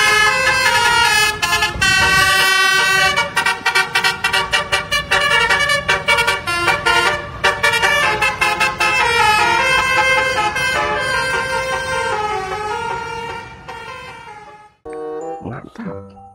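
A Persija Jakarta bus sounds a loud musical horn, a long run of rapid melodic honking toots, close and dominant, trailing off into a brief pause and a final short burst at the end.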